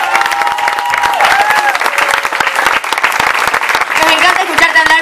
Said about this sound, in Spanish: recibamos con más aplausos